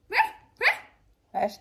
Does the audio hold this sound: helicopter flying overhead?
no